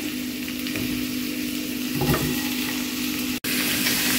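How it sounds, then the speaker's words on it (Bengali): Capsicum fries in a pan with onion and garlic, giving a continuous, even sizzle at moderate loudness. Faint stirring shows up now and then, with a very brief dropout near the end and no talking. "আমি ক্যাপসিকাম দেওয়ার পরে আমি কিছুক্ষণ ভেজে নেব।"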